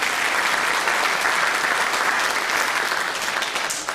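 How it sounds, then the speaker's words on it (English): An audience at a children's concert gives the flute player a dense, continuous round of applause, many hands clapping together at an even level until it starts to fade at the end. "a little applause for the flute player, folks"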